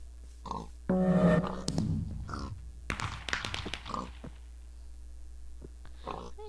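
Pig grunts and oinks from the Minecraft Block Hunt game sound in short bursts amid game clicks and rustles, moderately loud, with one longer squeal-like sound near the start.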